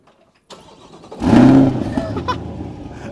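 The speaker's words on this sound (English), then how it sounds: "So let me show you what this V8 engine sounds like." A starter cranks briefly before the V8 engine of a 2021 Chevrolet Corvette C8 Stingray catches and roars loudly, then settles into a deep, rumbling idle close by.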